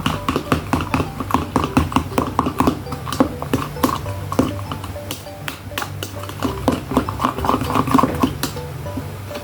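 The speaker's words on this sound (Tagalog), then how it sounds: "Kuha tayo ng fork. Saka natin haluin." A fork stirs and whisks beaten egg in a bowl, producing a fast, steady run of light clinking taps at close range.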